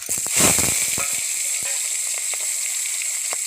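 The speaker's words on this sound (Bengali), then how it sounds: "এই শুকনো মাছগুলো সুন্দর করে মাছের মতনই ভেজে নেব, একটু হলদি আর লবণ দিয়ে" Large dried fish sizzle as they go into hot oil seasoned with turmeric and salt, a loud burst of frying at first that settles into a steady, close hiss with occasional crackles.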